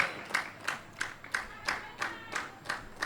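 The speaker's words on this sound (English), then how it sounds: "And the Danes in the crowd clap her out." Danish spectators at a European equipped powerlifting championship clap in a steady, evenly spaced rhythm, about nine claps blending into a crowd beat.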